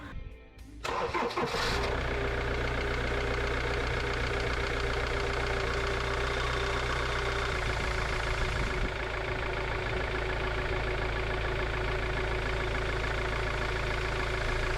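A Ford Transit campervan's diesel engine, just fitted with new injector seals, cranks briefly, catches, and settles into a steady, clattering idle that runs on loudly without voices.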